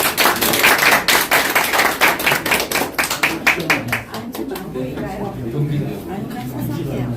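Applause from an audience at a meeting of railway professionals, loud and close, a dense burst of many hands clapping that thins out and fades after about four seconds, followed by quieter room sound and speech.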